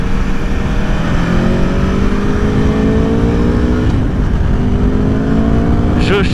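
An Aprilia Tuono V4 motorcycle engine accelerates hard while riding, with a rising whine through the gears and a brief shift near the middle. Loud wind noise runs underneath and a voice talks over it.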